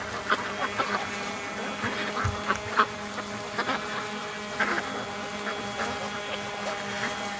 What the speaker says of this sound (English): Look at that little gimpy duck.